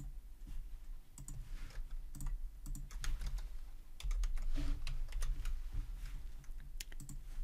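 Student names are typed on a computer keyboard, producing a close, continuous run of quick key clicks with uneven rhythm and no talking.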